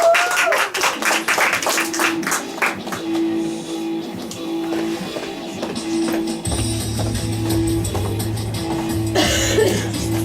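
An audience claps through a reading-aloud championship in Izhevsk, a burst of applause that thins out, with a steady tone and murmurs underneath.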